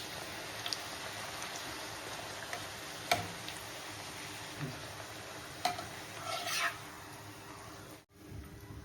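Wheat-flour puri frying in hot oil, a continuous soft sizzle with a few clicks and a gentle bubbling swell near the end, close and quiet with no speech.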